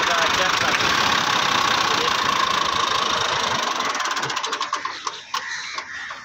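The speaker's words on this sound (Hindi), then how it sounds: "सलफ स्टार ट्रैक्टर जे, इंजन बिल्कुल ठीक" A 2004 Massey Ferguson MF 240 tractor idles with a steady, loud mid-range engine rumble up close, the engine note softening toward the end.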